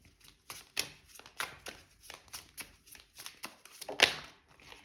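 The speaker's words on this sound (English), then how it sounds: "Let's pull some oracle cards for you." Oracle cards shuffled close by, a quiet run of repeated soft riffles and taps in an uneven rhythm, heard on their own.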